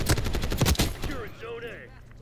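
Short, loud burst of XMG light machine gun fire in the shooter game Black Ops 6, quick rhythmic shots for under a second, then a voice talking as the shooting fades.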